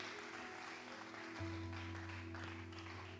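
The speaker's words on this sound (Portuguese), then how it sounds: "Dê uma linda salva de palmas à palavra do Senhor" Church congregation applauding during an evening thanksgiving service, a steady wash of distant clapping from a crowd heard under a sustained organ or keyboard chord that shifts partway through.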